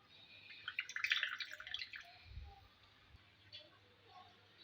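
Water squeezed from ground onions wrapped in a cloth, a burst of bright trickling and dripping up front that thins into scattered soft drips, with a faint low thump in the middle.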